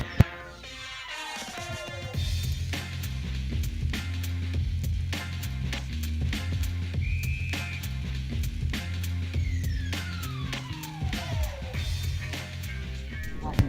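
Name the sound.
whistle blown to start a jai-alai game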